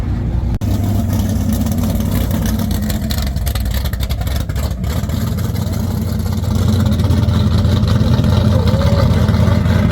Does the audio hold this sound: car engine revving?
yes